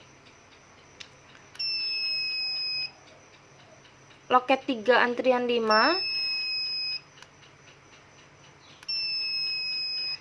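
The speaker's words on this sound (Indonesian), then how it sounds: "setiap penekanan tombol buzzer akan aktif" An Arduino buzzer on a queue-number counter system sounds a long, steady electronic beep with each button press. Three beeps come about a second or more apiece, and a recorded voice announcement plays between them.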